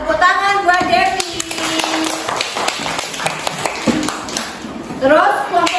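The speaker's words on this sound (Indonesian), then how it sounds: "Tepuk tangan buat Devi." A classroom of children claps for a classmate in scattered, uneven bursts, with sharp hand claps and taps mixed with young voices and a teacher talking over them.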